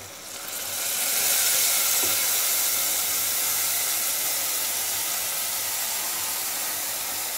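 Tomatoes hit a pan of sautéing onions and garlic for tomato thokku, the sizzle swelling quickly into a loud, steady hiss of steam that carries on without talk.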